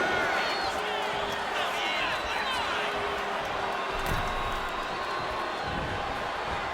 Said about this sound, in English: CM Punk playing to the crowd now.